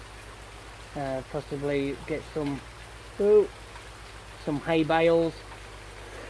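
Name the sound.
rain in the video game Farming Simulator 19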